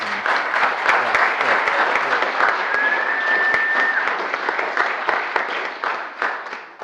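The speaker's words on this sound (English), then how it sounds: "I would love for members of the health district to stand up and just be honored by our applause" An audience claps steadily in a meeting room to honor members of the health district, a full sustained round of applause from many people at moderate loudness.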